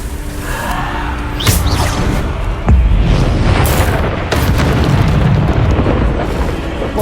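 A Bombarda spell in the video game Hogwarts Legacy on PS5 sets off booming explosions with sharp cracks and a rumbling tail, loud and dense throughout amid other game effects.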